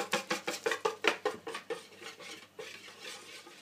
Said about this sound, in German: Jetzt verrühren wir das schon mal.